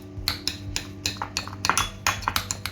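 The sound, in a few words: two spoons mashing canned tuna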